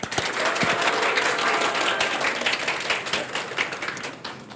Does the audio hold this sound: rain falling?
no